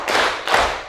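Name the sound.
hand clapping rhythm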